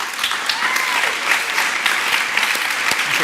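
A festival audience applauds a design debate panel with brisk, close clapping and sharp individual claps standing out, steady and lively throughout, with faint crowd murmur beneath.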